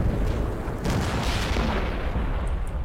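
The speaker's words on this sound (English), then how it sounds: "My howitzers are still going" Howitzer artillery firing in a video game, heard as dense, continuous rumbling booms that blend into a loud, sustained roar with no clear breaks between shots and no voices.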